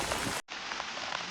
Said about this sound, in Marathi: कारण का जोरदार पाऊस चालू झाला, उलट सुलट कसा पण पाऊस येतोय